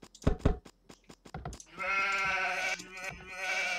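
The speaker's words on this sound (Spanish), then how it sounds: "Vale, aquí hay más ovejas." Sheep in a video game bleating, a run of short close knocks and clicks followed by a long, loud, wavering bleat that breaks briefly and then continues, with no talking.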